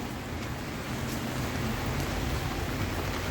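Heavy rain pours steadily during a midday walk, a dense, loud, unbroken hiss of falling water with no voices.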